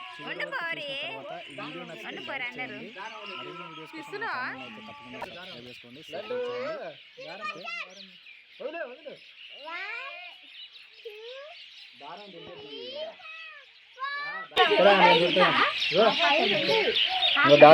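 A chorus of birds returning to their nests at dusk calls and chirps continuously, with overlapping trills and squawks, swelling louder and denser near the end.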